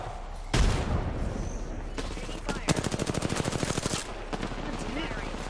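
Automatic gunfire in a first-person shooter video game: an initial blast, then a rapid burst of evenly spaced shots lasting over a second, with scattered single shots after, moderately loud.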